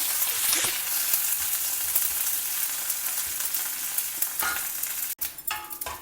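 Mustard seeds, hing and curry leaves fry in ghee in a pan over a low flame, a steady close hissing sizzle with crackles and a sharp clatter near the end.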